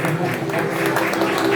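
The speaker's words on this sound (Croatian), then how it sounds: "sada jedan aplauz" A restaurant audience applauds in a short burst of clapping, with a voice and background music running over it.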